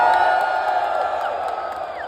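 Live audience at a Filipino battle rap event cheers and whoops together in a loud, sustained crowd roar that holds steady without pause.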